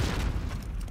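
A bomb detonates in Call of Duty: Modern Warfare, a single deep, heavy boom that rumbles loudly for under a second.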